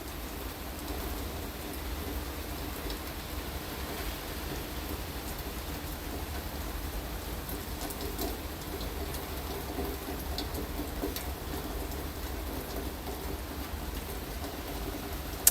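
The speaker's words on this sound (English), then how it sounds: "I don't see the rain ending, unfortunately." Steady rain falls continuously at an outdoor Walt Disney World resort, a dense even hiss of drops on surfaces with no voices over it.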